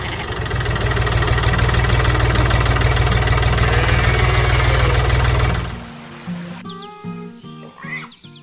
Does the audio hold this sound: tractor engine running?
yes